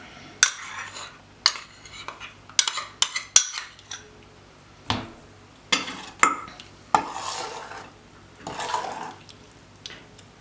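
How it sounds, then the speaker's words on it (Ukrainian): Utensil scraping and clinking against a bowl in irregular strokes, close and fairly quiet, as a mixture is stirred. "Ось так, усе усе змішую."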